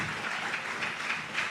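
A church congregation claps together in a dense, steady patter of applause, fairly close and continuous for the short stretch.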